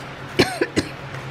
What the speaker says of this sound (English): why am I coughing?